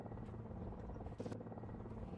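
A Ka-29 helicopter in War Thunder drones with a steady, dense rotor and engine hum, heard close and continuous from the cockpit view.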